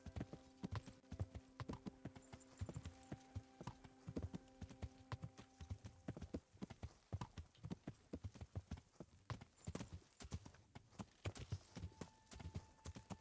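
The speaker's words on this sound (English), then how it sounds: "I turn to my side a little bit and I can hear the horse" Horse hooves clip-clop in a steady walking rhythm throughout the medieval game Kingdom Come: Deliverance, close and clear, with a faint tonal game sound underneath during the first half and no one talking.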